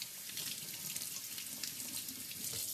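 A tap runs steadily into a sink while makeup brushes are rinsed, a close, continuous hiss and splash of water with no voices.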